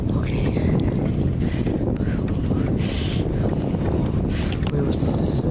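Wind roars during a winter snowstorm on a university campus in Wageningen, Netherlands, a constant loud rush with buffeting against the microphone and occasional gust swells, while people talk faintly underneath.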